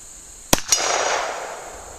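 A Hi-Point .45 ACP pistol fires cast bullets outdoors: two sharp, loud reports in quick succession, each followed by a short ringing decay.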